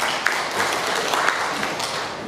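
Steady applause from a gathered audience at a temple festival preparatory meeting in Yangmei, welcoming the mayor; dense, continuous clapping of moderate loudness throughout, with a few sharper claps standing out.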